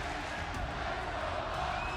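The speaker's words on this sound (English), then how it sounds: "Massive crowd here in Cincinnati." A massive arena crowd roars steadily at an AEW wrestling event in Cincinnati, a broad sustained wash of cheering filling the space without letup.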